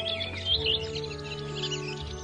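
Thrushes calling in the wild, a flock that lives in groups of 30 to 40, giving thin, high chirps and short whistled notes at moderate distance over a faint steady hum.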